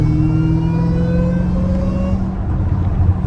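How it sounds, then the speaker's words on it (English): Dodge Hellcat Redeye wide body with exhaust valves closed, revving loudly and close, engine note rising in steady sweeps over a deep rumble, fading slightly near the end. "This is with the valves all closed right now. Sounds pretty good."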